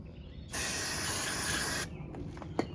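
A steady aerosol spray hisses loudly for just over a second, then cuts off, leaving quiet background noise and a small click, while a Suzuki Savage 650 motorcycle is being started.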